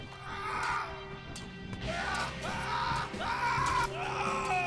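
Fighters in the medieval combat video game Half Sword yell and scream in several loud, drawn-out bursts that rise and fall, close up, with scuffling and impact noise between them.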